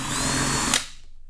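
A power drill with a 3/8 inch bit bores into a plastic gas can, a loud steady whir for under a second before a sharp bite and a quick spin-down into silence.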